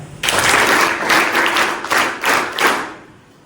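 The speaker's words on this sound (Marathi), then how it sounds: "आरोहीसाठी टाळ्या" A room of 10th standard students at a study workshop in Trimbakeshwar, Nashik breaks into applause for a classmate named Aarohi, steady dense clapping with a few louder surges before tapering off.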